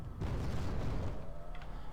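120mm mortar fire in a video game battle comes through as deep, rumbling booms and low thuds that overlap into a continuous, heavy roll with no voices.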